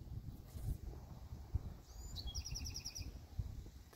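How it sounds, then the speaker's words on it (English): Birds call in the trees: a few thin, high chirps and a short rapid trill of repeated notes, clear but fairly quiet over low outdoor background noise. "There's lots of birds up there."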